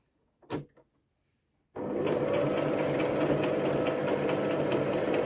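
A sewing machine stitches a buttonhole, starting after a brief knock and then running as a steady, even whir of rapid stitching that holds to the end, near and alone.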